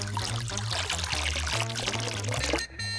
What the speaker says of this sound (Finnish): Kaadetaan kuumaa vettä kraanasta.